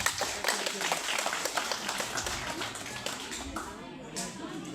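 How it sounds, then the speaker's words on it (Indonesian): Applause from a church congregation for the choir, a dense spread of claps carrying steadily throughout with a lively room sound. "Tepuk tangan juga untuk KOR ini."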